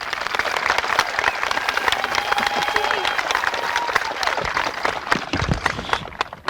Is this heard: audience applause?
yes